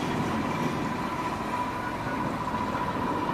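Train rumbling steadily at Didcot Railway Centre, a heritage railway site, with a continuous broadband engine and wheel noise and a faint steady tone, alone without talk.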